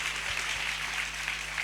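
Church congregation applauding during a service, a steady close wash of clapping with a low hum beneath, brief and without talk.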